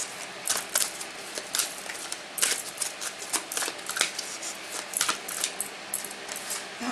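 Blessing cards being shuffled for a card reading, a steady run of crisp riffles and papery flicks close up, with no talking over them.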